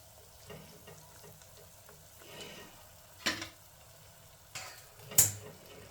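Ariselu, rice-flour sweets, frying in hot oil, give a soft, continuous sizzle with a few louder bursts of bubbling and clattering where a ladle presses and stirs them; no talking.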